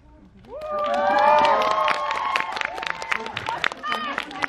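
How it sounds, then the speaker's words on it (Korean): A cinema audience at a post-screening film talk event in a Megabox COEX theater claps and cheers, with bright whoops and shouts rising over a steady patter of hands that continues for several seconds. "관객분들이 알아서 박수 쳐주는 이런 자리에 굉장히 좋습니다"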